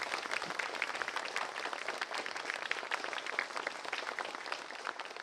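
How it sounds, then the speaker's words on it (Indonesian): A studio audience at a televised talk show applauds to welcome a guest, producing a dense, continuous patter of many hands that holds steady for several seconds without speech. "Kita berikan tepuk tangan"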